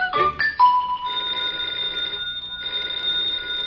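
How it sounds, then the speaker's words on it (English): A telephone bell rings in sustained bursts with a short pause between them, clear and close, with no one talking. "the telephone's ringing"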